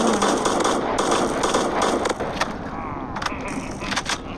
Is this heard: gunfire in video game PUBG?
yes